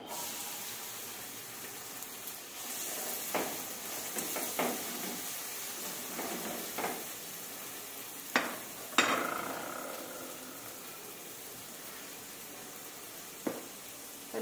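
Onions sizzling in oil in a pan, stirred now and then, with a soft continuous frying hiss broken by brief scraping stir sounds.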